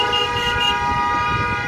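A car horn honks steadily for a couple of seconds, loud and close, over the low rumble of street traffic in an Indian town.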